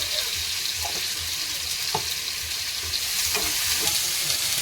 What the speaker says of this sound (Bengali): তো তেলের মধ্যে দিচ্ছি কালো জিরে আর চেরাই করা কাঁচা লঙ্কা টমেটো কুচি